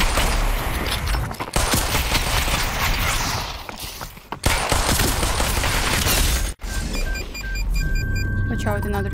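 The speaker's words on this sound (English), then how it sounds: "Watch out, another guy is shooting" Rapid bursts of gunfire from the VR shooter Population: ONE crackle through a loud, busy battle mix, with firing nearly continuous and a few sharp dropouts, a voice talking over parts of it.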